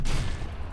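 Explosions in the video game Heroes of the Storm arrive as a short, loud, booming burst that fades quickly within under a second.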